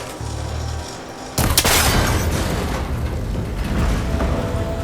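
A shot breaking a cable connector in Horizon Forbidden West, a sudden loud impact with a metallic snap and crash, then sustained rumbling debris and mechanical noise carrying on steadily.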